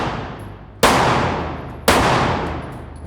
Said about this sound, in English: Dump that mag, Doc.